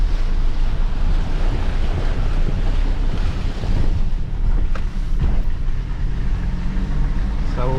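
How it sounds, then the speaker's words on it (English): Flood water rushes around a shed in a loud, steady roar of flowing water mixed with wind buffeting the microphone, with a brief voice near the end. "there is more water coming through"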